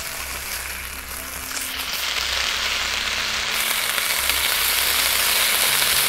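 Food sizzles in a pan in the Cooking Simulator video game, a steady broadband frying hiss that grows louder and denser, heard alone without talk.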